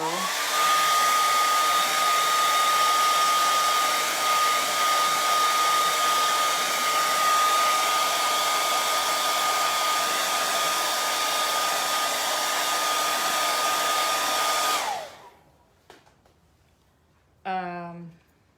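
A hair dryer blows loud and steady for about fifteen seconds while drying wet red paint on a cardinal painting, a constant close whine and rush of air, then cuts off, leaving near silence and a brief speaking voice at the end.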